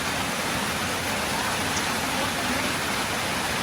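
Heavy rain pours steadily during a storm, a dense, loud, unbroken hiss that fills the whole stretch with no voices.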